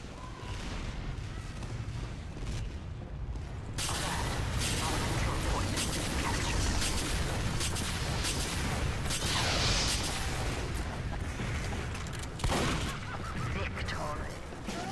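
A Team Fortress 2 sentry gun fires in rapid continuous bursts amid dense gunfire and explosions, loud and chaotic for most of the span after a quieter opening.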